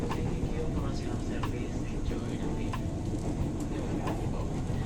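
A KRL CommuterLine train bound for Cikarang via Manggarai rumbles along steadily with broadband rail noise and faint periodic clacks, loud and continuous, with a voice faintly underneath.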